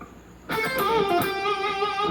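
A distorted electric guitar note bending up and wavering with vibrato, sustaining alone after a sudden attack.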